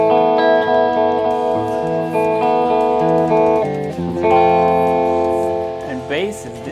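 Schecter Banshee electric guitar played through a Blackstar Series One 104 6L6 tube amp with all controls set at 12 o'clock, sustained chords and single notes ringing out loud and close, with no talk over them.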